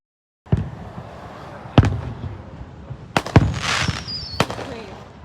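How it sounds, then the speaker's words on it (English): Fourth of July fireworks over Pensacola, loud sharp bangs and pops scattered irregularly at varying distances, with crackling and a brief whistle between the blasts and faint crowd noise beneath. "You can see all the fireworks everywhere."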